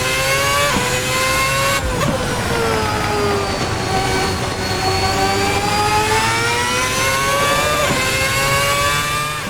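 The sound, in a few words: 2010 V8 F1 car engine in sim racing video game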